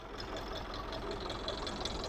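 A custom-built 4-wheel-drive tractor engine, 75-85 horsepower with a big block, idles without a balancer, giving a steady, even rumbling drone with a faint regular knock, close and alone without talk.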